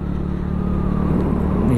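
A motorcycle rides a bumpy, pothole-filled mountain highway, the Halsema Highway in Atok, Benguet, its engine a loud, close, steady drone with a rising pitch toward the end.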